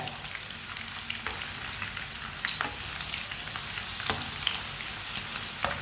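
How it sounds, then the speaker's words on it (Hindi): Okra (bhindi) frying in a pan for crispy karara bhindi, a steady close hiss of oil with scattered sharp crackles and occasional stirring knocks, no voices present. "अब इसे ऐसे ही फ्राई कर लेना।"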